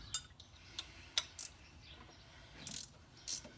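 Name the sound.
ratchet wrench removing parts from a Nash Metropolitan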